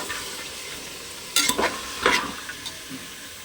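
Mixed vegetables for a simple sagu are stirred and fried in a pan, a low constant sizzle punctuated by a cluster of scraping, rattling spatula strokes in the middle; close, with no talking.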